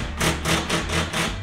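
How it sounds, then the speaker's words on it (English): A cordless drill driving an over-the-range microwave mounting screw until tight, clutch rattling in loud, rapid regular bursts, close up. "So you know when you hear your drill rattling like that, you're tight."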